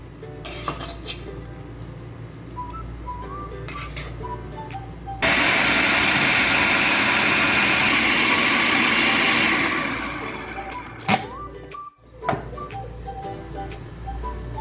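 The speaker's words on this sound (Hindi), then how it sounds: "अब इसमें हम शामी कबाब का मिक्सचर डालेंगे और इसको भी साथ अच्छे से हम चॉप कर लेंगे" An electric food chopper grinds shami kabab mixture in one loud, steady whirring run of about four seconds. Quieter clinks and handling noises come before and after it.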